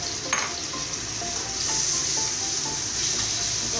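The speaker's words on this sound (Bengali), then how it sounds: "এবার আমি দুটো বড় সাইজের টমেটো কেটে নিয়েছি, টমেটো দুটো এবার দিয়ে দেবো" Two large chopped tomatoes go into onions already frying in a pan, giving a steady close sizzle with a few soft stirring knocks.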